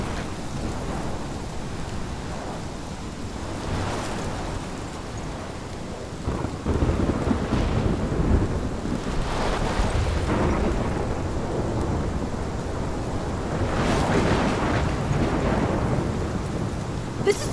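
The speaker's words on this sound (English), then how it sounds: "This is my storm." Thunderstorm in the video game Life is Strange, with steady heavy rain and repeated rolling thunder claps that swell louder partway through, sustained and alone without any talk.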